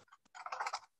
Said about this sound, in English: This will be a test of my typing skills.